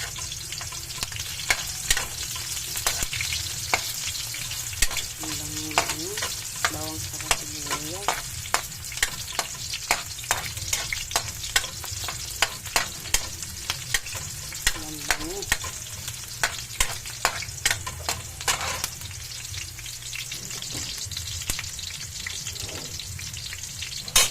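Chopped onions sauté in a hot pan for a coconut-milk tuna stew, a steady sizzle broken by repeated scraping and clinking as a utensil stirs them, close and loud, with no talking.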